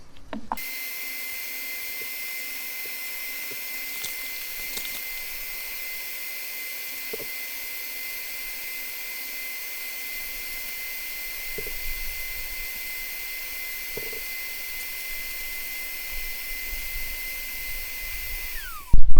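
A vacuum cleaner runs steadily, cleaning the air filter of an NAC LS50-680-H petrol lawn mower, with a high-pitched whine, occasional soft knocks as the nozzle moves, and a sudden cut-off at the end.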